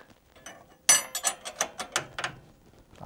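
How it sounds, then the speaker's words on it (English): A ratchet wrench works on a 22 mm bolt of a steering stabilizer on a Jeep Wrangler, giving a quick run of about eight close, crisp metallic clicks in an even rhythm, quiet surroundings, no speech. "Let's see if we can get a wrench on this."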